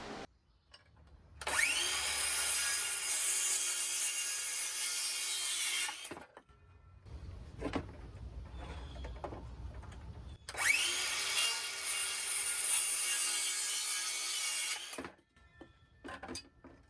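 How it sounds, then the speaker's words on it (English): Two long, loud bursts of a power saw cutting recycled pallet wood, each a steady high whine lasting several seconds, separated by quieter handling knocks and shuffling. "Got to measure it out, 23 3/4 mark, and get ready to saw."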